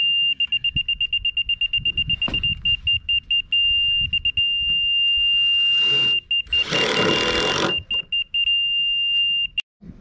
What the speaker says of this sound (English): So I put that on my beep beep transit.